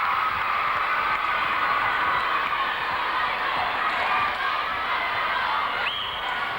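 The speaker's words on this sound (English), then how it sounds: "Enjoying their netball, that section of the crowd." A large crowd at a 1995 international netball test between the Diamonds and the Proteas, a broad, steady roar of cheering and shouting throughout, with no single voice standing out.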